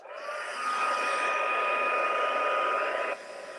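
An embossing heat tool blows hot air to set embossing powder on a stamped card, a steady loud whooshing drone lasting about three seconds before it drops off.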